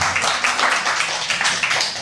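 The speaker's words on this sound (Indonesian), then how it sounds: "kita tepuk tangan buat Pak Wayan" An audience applauds Pak Wayan, a doctor who has just addressed a large gathering during Ramadan. The clapping is dense and steady, loud and close, and keeps going for the whole stretch.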